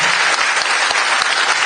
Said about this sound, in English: please join me to give a round of applause to our panelists